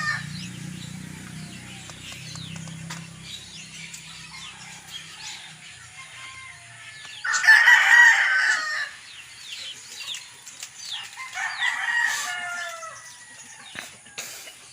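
Chickens and roosters cluck and crow around a rural house with pigs nearby, mid-distance and moderately loud. One strong burst of crowing stands out midway and a second comes later, over steady background bird chatter and a low hum at the start.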